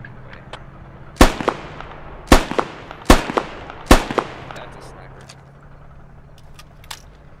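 Incoming gunshots in a video game: four sharp, loud cracks at uneven intervals, each trailed by brief echoing rattles, over a low background hum.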